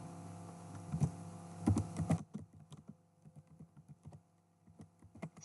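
Fingers type on a computer keyboard in quick clusters of clicks, busier and louder at first, then sparser, lighter keystrokes over a faint hum.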